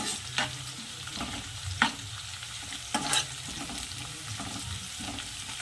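Chopped onions fry in a pan with a soft, continuous sizzle and a few scraping stirs and light knocks of the spoon, heard close and alone.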